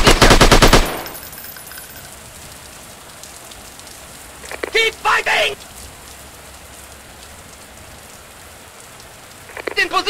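Rapid bursts of automatic gunfire in a sniper shooting video game: a loud volley at the start, another cluster of shots midway and a final burst at the end, separated by quieter ambient stretches.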